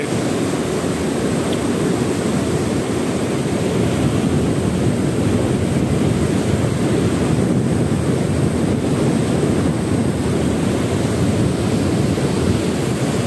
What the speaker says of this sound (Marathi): पाण्याचा वेग वाढत चाललाय।